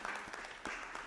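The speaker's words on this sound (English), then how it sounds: "That's a clap." Clapping in a city council chamber, a brief burst of claps from a small group, fairly quiet and dipping to a lull before a second swell.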